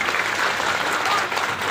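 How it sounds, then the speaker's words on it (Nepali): An audience at a spiritual gathering in Kathmandu claps in a sustained, loud burst of applause, many hands together, unbroken from start to finish. "सम्मान स्वरूप जोरदार ताली"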